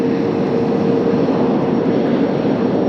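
A turbojet airliner lands in a gusty crosswind at Las Vegas, giving off a loud, continuous broadband roar that holds steady throughout without any break.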